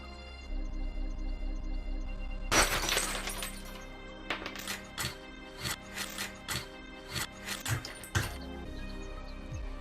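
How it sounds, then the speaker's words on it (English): The glass of an emergency equipment cupboard on a train shatters with a sharp crash, followed by a series of tinkling, cracking impacts as fragments are knocked out; background hum throughout. "To open the cupboard, simply break the glass."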